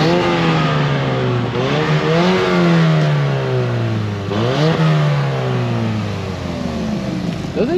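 A stock Subaru WRX engine, with an exhaust leak, revs and accelerates loudly and close up, pitch climbing through gears with two dips at shifts before pulling hard again, continuous throughout.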